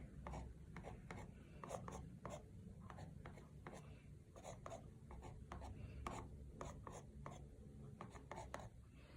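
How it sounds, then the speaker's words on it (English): Wet ink being scraped off a painted canvas, a quiet, steady run of short rasping strokes repeating irregularly throughout, close and fairly soft with no talk. "So trying to scrape off some of the wet"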